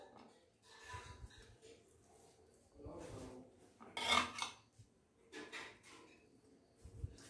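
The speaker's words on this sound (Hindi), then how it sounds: "हम अपने सर्विसिंग के सर्विस प्लेट में डाल रहे हैं शाही टुकड़ों को" Shahi tukda pieces of fried bread being set onto a serving plate, heard as several close clinks and scrapes of utensil against plate in irregular bursts, with a sharper clatter near the middle and quiet pauses between.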